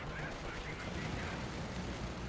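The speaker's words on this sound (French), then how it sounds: "Le canon qui continue de tirer." Tank cannon firing in the video game Company of Heroes 2 within a dense battle din, heavy shots blending into continuous rumbling gunfire and explosions with no clear gaps.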